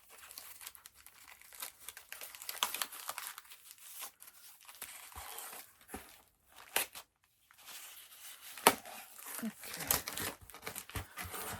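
Adhesive tape is peeled and torn in crinkly bursts from a plastic bag sealing a comic book, rustling in uneven stretches with a few short pauses.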